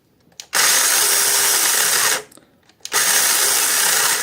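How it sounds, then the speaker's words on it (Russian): An ONEVAN cordless 8-inch chainsaw whirs up to a loud, steady high-pitched motor whine, cuts off briefly, then starts again and keeps running, close to the microphone. "Все, ну что, запускаем пилу."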